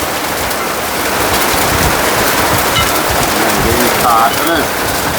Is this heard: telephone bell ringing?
no